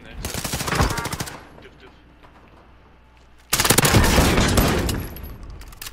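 Rapid bursts of automatic gunfire from an MP7 in a video game, a loud dense volley followed by a quieter gap, then another sustained loud burst, with voices talking over it.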